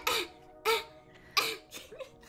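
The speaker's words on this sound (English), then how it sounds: "I'm gonna cough in unison." Four sharp coughs in an uneven rhythm, close and fairly quiet, with brief pauses between them and no talk.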